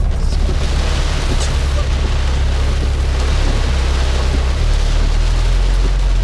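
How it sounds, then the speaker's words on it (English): Heavy monsoon rain pounding steadily on a moving 2015 Porsche 911 Turbo S, a constant loud roar of downpour with a deep low rumble underneath and no letup. "all that noise you're gonna hear in the background is rain"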